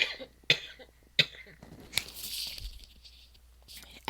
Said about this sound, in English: Coughing and sneezing, coughing and sneezing.